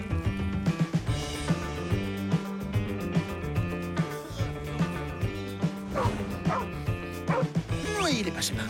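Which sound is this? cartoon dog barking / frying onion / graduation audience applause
cartoon dog barking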